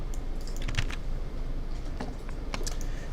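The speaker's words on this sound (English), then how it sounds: "we're just going to type the word spawn" Fingers type a short word on a computer keyboard: a quick run of light, close key clicks over a constant background hiss.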